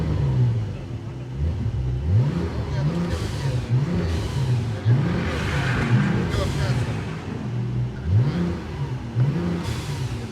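Brabus-tuned Porsche 911 Turbo S, 820 hp flat-six, revving repeatedly in Sport Plus mode with the sport exhaust open, each blip rising and falling in a steady rhythm, loud and close, with a voice talking over it.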